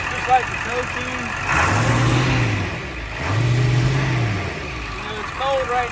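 A Ford E350 Superduty's 7.3 Powerstroke diesel engine, cold, runs and revs twice in smooth rising and falling swells, with someone talking over it.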